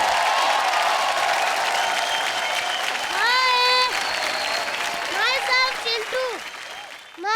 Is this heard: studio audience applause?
yes